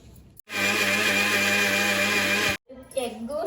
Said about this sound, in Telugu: ఎగ్ షుగర్ వేసి బీట్ చేశానండి